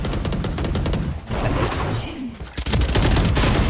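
Rapid gunfire bursts from a Valorant-style tactical shooter game, dense and loud throughout with a brief lull in the middle before heavy firing resumes.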